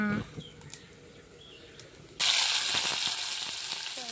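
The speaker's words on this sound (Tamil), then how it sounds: "பச்சை மிளகாய், ஒரு பொடி வெங்காயம் கொஞ்சம் எடுத்துக்கிறேன், போட்டு தாளிச்சிக்கலாம்" Green chilli and chopped onion dropped into hot oil for tempering while making mor kuzhambu, a quiet start with a few small clinks, then a sudden loud, bright sizzle that keeps crackling steadily.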